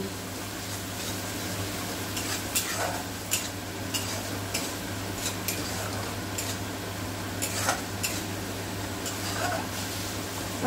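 Water-thinned spice paste cooks in a pan for a rui fish curry with mustard and poppy seed, giving a steady soft sizzle with intermittent scraping stir strokes over a low constant hum.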